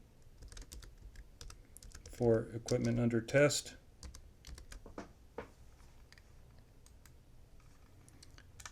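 Keys clatter on a computer keyboard in scattered taps and a short dense flurry of typing, close and moderately loud, while someone speaks calmly over it.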